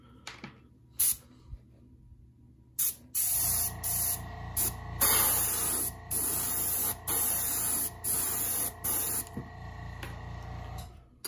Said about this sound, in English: you're just gonna hold it in place while you spray.